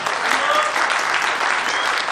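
An audience at a sales training lecture in a corporate training center claps steadily, a dense, even burst of applause with no voices over it.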